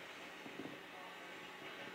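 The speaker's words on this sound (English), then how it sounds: "There's a train passing by." A train rolls past in the video game GTA 5, a steady, moderately distant rumble of wagons and wheels with a faint rhythmic clatter, heard without talk.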